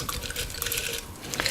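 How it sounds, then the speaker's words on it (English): A berry drink is strained into ice-filled Collins glasses, with a soft, close, irregular trickle and splash of liquid and faint clinks near the end. "And then strain it into a couple of Collins glasses."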